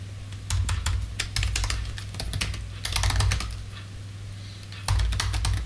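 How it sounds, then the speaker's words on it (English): Typing on a computer keyboard while writing PHP code, rapid clusters of close, crisp key clicks in uneven bursts with short pauses between, carried over a faint low hum. "I am not typing good today at all."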